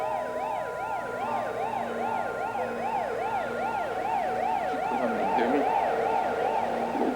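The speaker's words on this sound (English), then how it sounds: "The ambulance is here." An ambulance siren wails in a continuous up-and-down yelp, loud and close, holding steady throughout with engine rumble beneath and a slight pitch dip near the end as it pulls in.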